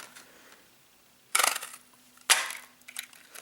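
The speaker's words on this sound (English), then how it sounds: "I'm just going to quickly grab my note tag punch and punch these out." A note tag punch cuts paper tags in two sharp, crunching presses, close and distinct against a quiet room with a faint hum.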